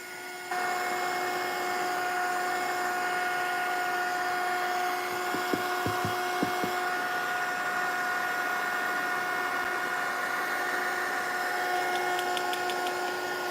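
A heat tool drying wet spots on a mixed-media collage blows as a continuous steady whine with a strong fan hum, close and unbroken, with a few faint taps midway.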